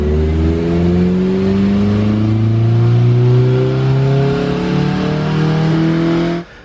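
A Honda K24 engine in an EP3 with a twin-loop exhaust revs hard and continuously, its pitch climbing steadily through the range with a deep, throaty exhaust tone, then cuts off abruptly.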